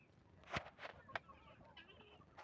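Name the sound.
chickens roaming in a free-range poultry farm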